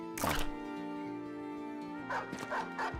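Dogs in the space-survival game Ostranauts give a loud burst of barking early on, then a quieter cluster of yips and barks near the end over a steady droning game soundscape.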